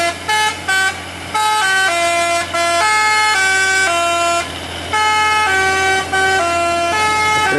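A bus telolet horn plays loud, close musical multi-tone honks in a quick stop-start pattern of short and longer bursts, each a bright chord-like melody over a faint engine rumble.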